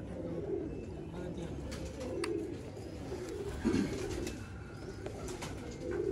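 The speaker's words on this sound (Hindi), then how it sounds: "ये नुमान भट्ट प्लस वाले कबूतर हैं।" Teddy pigeons of Numan Butt's line cooing softly in a loft, with low repeated coos and a few brief chirps over a steady background hum.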